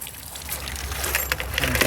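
Tap water runs into a bucket, a close, steady splashing pour that grows slightly fuller over the short stretch, with no talking.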